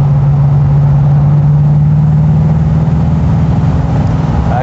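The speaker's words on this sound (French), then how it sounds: "Avec la sonorité du V8." An AMC Javelin AMX muscle car's V8 runs with a loud, steady low rumble and a strong droning hum, holding an even throbbing note throughout with no voices.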